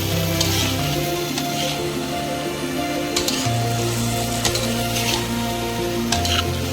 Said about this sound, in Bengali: এবার আমরা সবজিটা দিয়ে নেব সবজির মধ্যে যেসব সবজিগুলো আমাদের ছিল সেগুলো সব দিয়ে ভালো করে নেড়ে ছেড়ে একটু মাখিয়ে নেব